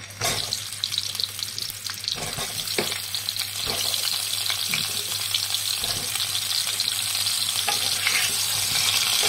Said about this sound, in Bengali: দিয়ে সমস্ত পটলগুলোকে সামান্য একটু ভেজে নেব।